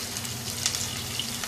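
Sliced onion frying in about four spoonfuls of hot oil in a pan, a steady soft sizzle and crackle with small pops, close and fairly quiet, no talk.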